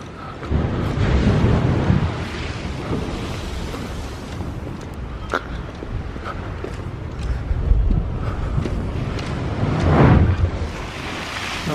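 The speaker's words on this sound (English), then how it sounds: "see the big waves over there" Heavy stormy sea waves surge and crash in gusty wind at Watchet, rising and falling in swells with buffeting wind noise on the microphone.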